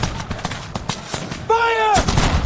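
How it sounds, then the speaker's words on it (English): Civil War musket volley in battle, a burst of sharp gunfire cracks amid shouted commands, with a loud sustained blast in the second half over battlefield noise. "Ready! Fire!"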